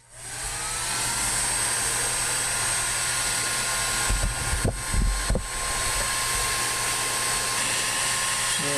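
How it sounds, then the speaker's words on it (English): A heat gun blows a steady, loud, continuous hiss of hot air onto a flattened PVC pipe to soften it for bending, with a few brief handling knocks midway and no talk. "Alright, so let's turn on the heat gun and I'll show you what that looks like."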